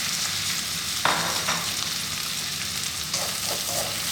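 Chili and curry powder, a roasted and unroasted Sri Lankan blend for prawn curry, fry in a hot pan, giving a steady close sizzle with a few louder stirring scrapes and spits.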